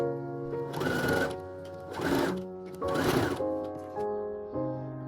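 A domestic sewing machine stitching dress pieces together along a 1 cm seam, running in three steady bursts with a rhythmic whirring hum and short pauses between them.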